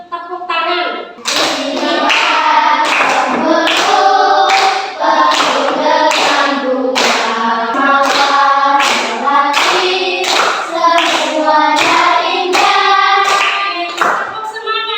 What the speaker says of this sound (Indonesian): Kita bernyanyi bersama-sama sambil tepuk tangan.